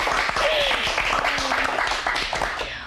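Audience applause fills the space with dense, continuous clapping from a crowd, with voices mixed in underneath and the clapping tapering slightly toward the end.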